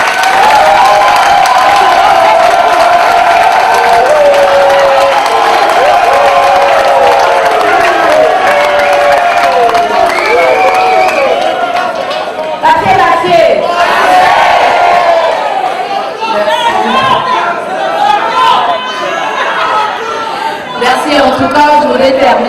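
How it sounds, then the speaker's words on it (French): A large crowd at a May Day 2016 gathering at Gabon's Ministry of Budget cheers and applauds for union leaders, a loud, dense swell of voices and shouts that keeps going for over twenty seconds before thinning slightly. "Alors nous applaudissons tous pour nos responsables syndicaux."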